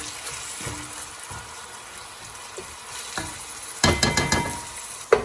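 Onions frying in oil give a soft steady sizzle, joined near the end by louder bursts of stirring and clattering.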